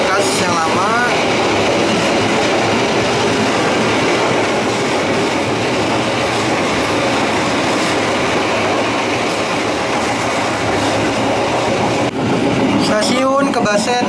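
A Bengawan passenger train runs on the rails between Jakarta and Yogyakarta, with a loud, steady rumble from inside the carriage and rhythmic clacking of wheels, plus brief squeals and sharper clatter near the end.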